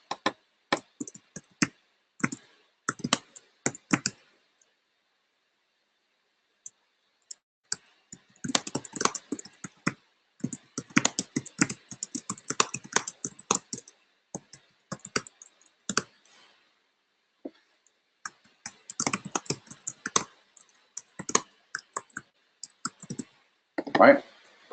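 Computer keyboard typing in quick clicking bursts with pauses between them, close and fairly quiet, alone with no talk over it.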